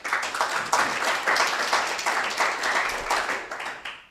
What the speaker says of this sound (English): and then the applause, okay?